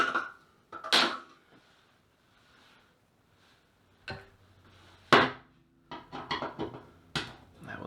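Scattered knocks, clatters and scrapes as an old painted-on toilet paper holder is unscrewed and pried off a bathroom wall, irregular bursts with quiet gaps between them.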